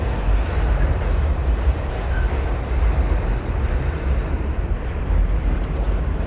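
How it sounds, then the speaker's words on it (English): A W subway train rolls into the Stillwell Avenue yard in Brooklyn, New York City, giving a steady, loud rumble of wheels on rails with no break and no one talking. "We got a train going into the yard here, into Stillwell Avenue yard."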